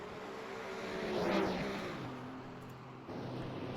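Porsche 935/K3 race cars at Barber Motorsports Park roar through the final turn and out, engine note swelling as one sweeps close past, then another engine rises behind it, with no talk.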